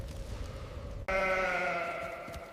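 A sheep, one of the Cyclops' flock, lets out a single loud, wavering bleat that starts abruptly after a short stretch of low background sound and holds for over a second.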